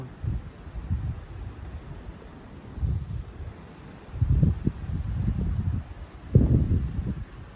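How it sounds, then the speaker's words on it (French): Strong December gale winds roar in low, buffeting gusts against the microphone, rising and falling in several heavy surges with quieter lulls between. "Un fort vent quand même"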